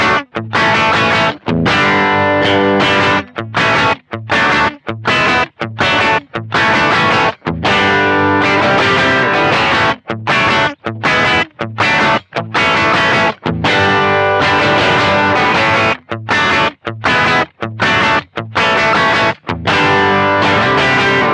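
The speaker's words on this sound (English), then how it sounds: "now we're going to engage the analog cab sim, so we get a little bit of filtering going" Distorted electric guitar through a Fryette Power Load with its analog cab sim filtering engaged, riffing in loud, chopped bursts separated by sharp stops, dense and saturated throughout.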